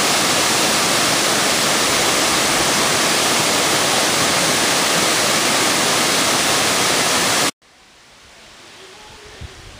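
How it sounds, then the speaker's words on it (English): Martin Creek Falls pours a loud, dense broadband roar of falling water that stays steady, then cuts abruptly to quiet woodland ambience with faint rustling in the last two seconds. "Beautiful Martin Creek Falls."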